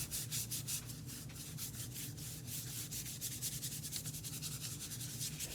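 A cotton swab dabbing and rubbing rubbing alcohol across a landscape painting to shape a tree trunk, giving a steady run of close, quick, soft scrubbing strokes with no talk.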